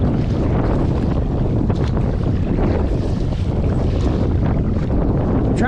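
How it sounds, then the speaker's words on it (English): Strong wind buffets the microphone while kayaking on a Vibe Yellowfin 100, a steady loud roar with gusty surges and water sloshing beneath, continuous throughout and free of speech. "Well, the wind just got twice as bad, and I might be in trouble."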